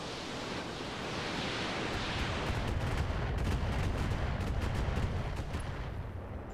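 Mech weapons firing in the Roguetech battle game, a dense roar of rumbling blasts with sharp crackling bursts over a broad noisy wash, swelling and then easing off.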